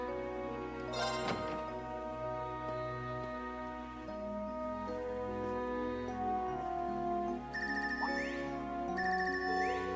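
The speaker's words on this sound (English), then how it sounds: "This ringtone. I haven't heard this before." A phone ringtone sounds in the Legend of Heroes: Trails of Cold Steel 3 video game, a melodic electronic chime playing through a repeating phrase over soft background music, clear and steady with no speech.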